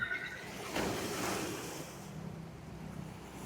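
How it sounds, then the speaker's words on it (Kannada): Sea waves wash and break nearby at night by the Bandra-Worli Sea Link in Mumbai, a soft surge that swells and then fades into a gentle hiss, with some wind noise. "ಈ ಅಲೆಗಳ ಶಬ್ದ"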